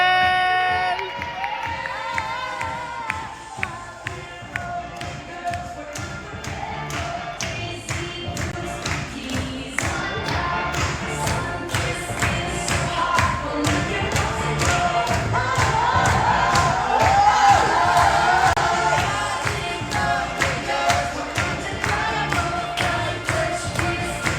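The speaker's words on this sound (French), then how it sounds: "On peut applaudir Axel!" Audience at a Met Gala–themed show clapping and cheering for a participant, rhythmic hand claps with thuds and shouts building into a louder, busier swell in the middle before easing slightly.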